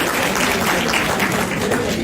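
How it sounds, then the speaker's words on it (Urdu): Audience clapping in a lecture hall, a dense, steady wash of applause filling the whole short moment, loud and close, with no clear voices. "اچھا یہ تالی کلچر بند"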